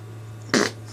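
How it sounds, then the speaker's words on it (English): A single short, fairly loud fart breaks out in a workshop over a steady low electrical hum. "Why do I always fart when I'm doing a video?"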